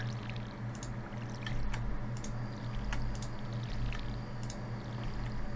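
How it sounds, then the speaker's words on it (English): Watering crops on a farm in the Stardew Valley video game, heard as soft repeated splashy pouring squishes over a steady low droning game background. "Quickly water them before it gets dark."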